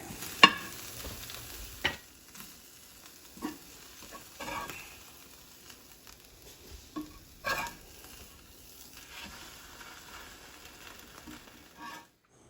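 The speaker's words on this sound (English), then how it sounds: "we're just gonna leave them on the griddle and let them sizzle just a little bit more" Soft, steady sizzling of Reuben sandwiches with a few sharp clinks and scrapes of a spatula on a hot griddle, no voices.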